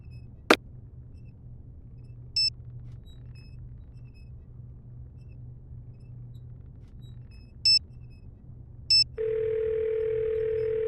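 A telephone in the Nancy Drew mystery game: a click, then a few short electronic beeps spaced apart over a low steady hum, ending in a sustained dial-like tone that holds to the end.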